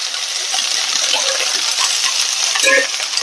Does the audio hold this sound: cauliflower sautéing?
yes